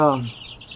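A single short, nasal cluck from a chicken close by in a coop, followed by quiet background.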